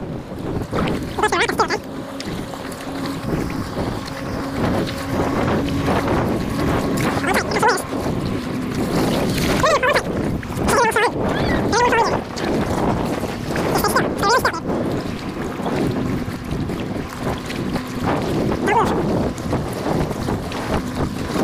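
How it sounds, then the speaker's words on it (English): A boat engine drones on the water under steady wind buffeting the microphone, while people talk close by throughout. "We gotta wait for this boat."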